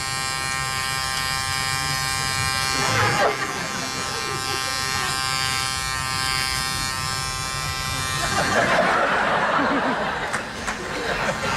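A voice imitates an electric shaver, comic Mr. Bean style, with a steady nasal buzz that runs for several seconds, a short break near three seconds, then a louder burst near the end with laughter around it.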